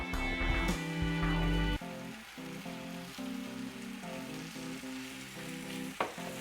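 Oil heating in a pan with spinach on a cooking show set, a soft steady sizzle and crackle heard close, following a few clattering knocks at the start and a sharp tap near the end.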